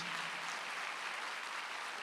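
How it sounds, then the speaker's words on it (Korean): A church congregation claps at a Sunday worship service, a steady, even roar of applause from a large group, fairly quiet and without distinct individual claps. "믿는 사람만 박수 한번 더 해주세요"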